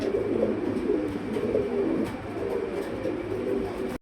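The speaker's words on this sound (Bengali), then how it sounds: "এটা একটা কবুতর" A pigeon of a fancy breed coos with a low, soft, continuous rolling murmur, close and steady throughout with no talking.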